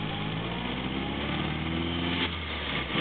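A 1934 Morris 10 convertible engine runs steadily while driving, a continuous low drone with faint road noise throughout and a slight shift near the end.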